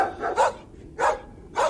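Dogs barking in short sharp bursts, three or four separate barks spaced about half a second apart, fairly close and alone against a quiet background.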